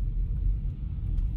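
An electric car drives on the I-70 highway near the Eisenhower Tunnel in cold weather, heard from inside as a steady low road rumble with no talk.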